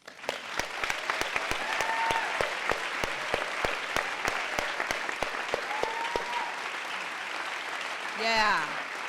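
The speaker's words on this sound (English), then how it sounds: "Clap for that." Audience applause at an arts advocacy panel, a moderately quiet spread of clapping with distinct sharp individual claps standing out from the crowd, a brief whoop or cheer rising near the end.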